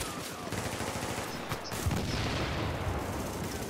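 Rapid NPC gunfire in a video game, dense overlapping shots rattling steadily under a game soundtrack for the whole stretch, loud and continuous with no clear pauses.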